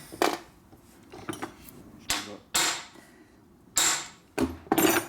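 Light hammer taps strike a tapered plug on a 1959 Harley KR street race bike, coming as sharp metallic clinks in irregular clusters of one or two blows with quiet pauses between, close and fairly soft.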